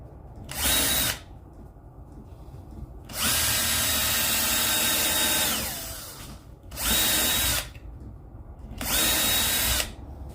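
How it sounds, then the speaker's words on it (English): A power drill whirs into wood in four separate bursts, loud and close, each a steady high-pitched grind lasting one to three seconds with pauses between. "I'm trying not to drill too deep in this wood"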